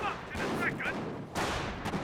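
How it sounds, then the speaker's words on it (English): Sniper rifle shot in a Company of Heroes match, a sharp crack near the start followed by a second burst of gunfire later, set amid battle noise with other weapon reports. "Sniper fired away."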